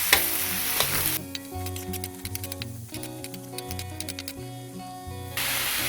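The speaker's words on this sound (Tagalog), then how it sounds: "Tapos hahaluin po natin siya hanggang sa maluto yung ating kamatis." Chopped tomatoes sizzle in a frying pan as they are stirred, a busy crackling fry with bursts of scraping and clatter over a loud steady hiss.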